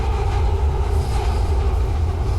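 Train riding on rails in the video game Fallout London: a loud, continuous rumbling roll with a steady mechanical drone and no voices over it.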